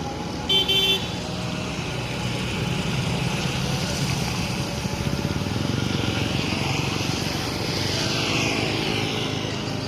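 A Mercedes-Benz OH 1626 intercity night bus pulls out of a bus terminal in Indonesia, its engine a steady, continuous rumble close by with a short horn toot near the start and no talk.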